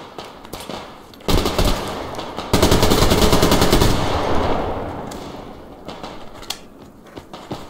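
Sustained automatic gunfire rattles in rapid bursts in the online shooter Survarium, loud and close, with two long volleys that trail off into scattered distant shots.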